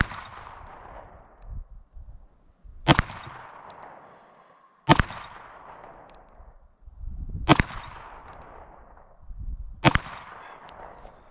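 Four sharp, loud pistol shots at 15-yard targets, fired slowly about two seconds apart from a Glock 17L, Steyr L9 or Walther PPQ M2 5 inch, each crack ringing out with a decaying echo.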